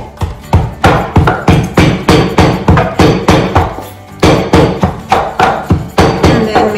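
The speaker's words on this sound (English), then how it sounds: "And then you smash it." Fried plantains for Puerto Rican mofongo are pounded in a steady, fast rhythm of loud, close thuds, about two per second, with a brief pause midway and no talking.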